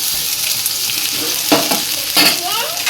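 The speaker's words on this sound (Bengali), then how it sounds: "করলাটাকে ভেজে নেব। দিয়ে দিলাম তেলের মধ্যে" Bitter gourd pieces hiss and crackle as they drop into hot oil in a pan, a steady close sizzle swelling in two brief louder bursts.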